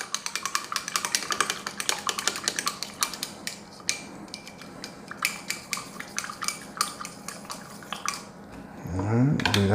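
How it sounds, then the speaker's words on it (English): A utensil stirs a mead mixture in a container, producing rapid, repeated clinks and scrapes against the sides in a busy rhythm, with a louder clatter at the end. "Not shake, but stir it up."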